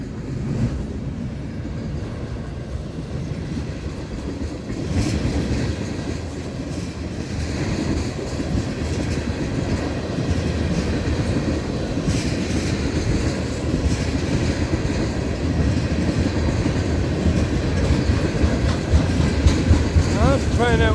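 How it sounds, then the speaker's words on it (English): FEC freight train manifest cars roll past on the tracks near St. Augustine, Florida, with a loud, continuous rumble and steady wheel clatter, while wind buffets the microphone. "Here comes some manifest cars."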